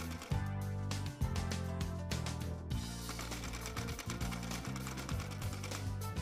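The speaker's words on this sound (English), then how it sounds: "So you can see how I move the embroidery hoop and sew the flower shape." A regular domestic sewing machine runs close up, stitching lace applique on organza fabric in an embroidery hoop, its rapid needle rattle coming in short bursts separated by brief pauses.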